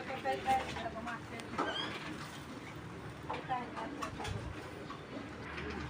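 Racing pigeons cooing softly at a pigeon farm, low murmuring coos recurring amid background noise and someone talking nearby.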